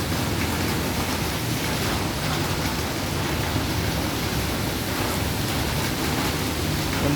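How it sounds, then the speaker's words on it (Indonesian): Heavy afternoon rain pours steadily onto a street beside a housing complex, a dense, unbroken hiss that stays loud and even throughout with no voices. "Lumayan deras hujannya"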